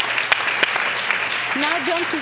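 Applause at a women in business event, a steady clapping crowd with a voice speaking over it toward the end.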